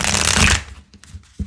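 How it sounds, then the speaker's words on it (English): A large tarot deck is shuffled in one dense riffling burst lasting about half a second, followed by a few softer card taps and a small thump, all close and with no talking. "Let me give it one shuffle."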